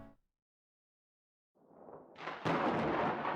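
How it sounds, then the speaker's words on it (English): Thunder rumbles outside a library in a video game, starting as a low distant roll after a brief silence, then building into a louder, broad crashing boom that sustains to the end. "As thunder rumbles outside, a few people around the library startle at the sound and look around"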